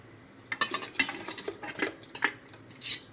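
Metal utensil scraping and clinking against a pot as ground raw rice batter is stirred into cotton seed milk, with irregular taps and scrapes, close and fairly quiet.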